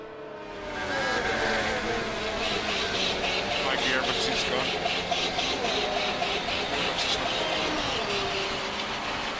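Failing Mercedes Formula 1 car engine in the F1 2019 racing game, a steady strained whine and buzz with wavering harmonics, holding continuously at moderate level throughout.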